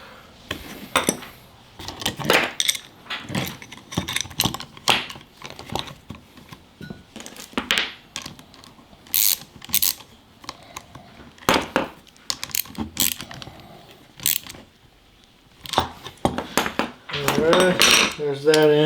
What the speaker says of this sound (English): I'm going to put 2 washers here, and it gives the ball joint a little bit more room to move